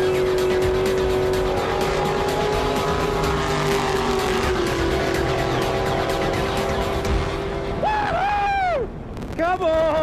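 A race car roars loudly at full throttle on a drag strip, its engine note sustained and steady for most of the run. Near the end it swoops through rapid rising and falling pitch sweeps as it shifts and slows.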